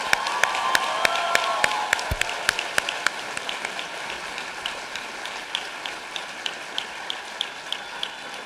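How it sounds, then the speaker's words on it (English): At a St. George's University School of Medicine white coat ceremony, the audience applauds the graduating class. The scattered, crisp hand claps are loudest at first and then thin out to sparse individual claps. "final big round of applause for our entire class of 2027."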